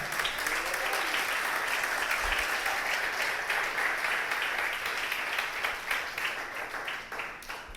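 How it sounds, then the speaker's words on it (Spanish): Sustained applause from a large church congregation, thick and steady clapping that holds for several seconds and thins slightly toward the end. "Denle un aplauso al Señor."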